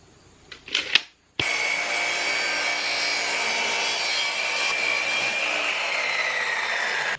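Saw cutting a wooden board to about 8 inches for a workshop French cleat shelf, a loud steady buzzing cut that starts abruptly after a brief knock and runs close and continuous to the end.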